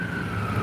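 An emergency vehicle siren wails on a New York street, a steady, loud tone holding over low rumbling street noise for a brief moment.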